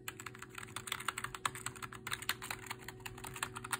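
Someone types on a cheap RGB computer keyboard, giving quick, even clacks in a steady stream that sound close and fairly soft, with no talking.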